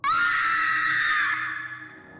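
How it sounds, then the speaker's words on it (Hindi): A woman screams sharply as holy water is sprinkled on her during a priest's ritual. One loud, sustained shriek rises, holds, then tapers off over faint background music. "जल का स्पर्श पाते ही मेघना बुरी तरह चिल्ला उठी।"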